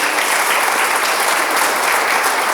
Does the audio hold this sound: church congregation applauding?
yes